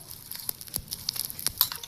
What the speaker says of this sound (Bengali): এখানে কি সুন্দর করে ফুটছে